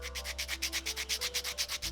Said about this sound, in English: I'm gonna go ahead and work on this with some 100 grit sandpaper, which is pretty rough